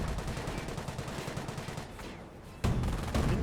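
Gunfire in the video game Company of Heroes, a World War II battle between Panzer Elite and British forces: dense, continuous crackling bursts of rifle and machine-gun fire at steady loudness, rising sharply near the end.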